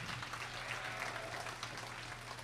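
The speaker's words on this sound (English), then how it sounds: "please give us a round of applause here" A crowd of spectators applauds at a county fall fair sheep show, a steady dense patter of clapping that sounds fairly distant and soft, with no voices over it.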